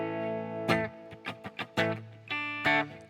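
A clean electric guitar plays a short run of plucked notes, each ringing out with echoing repeats trailing behind.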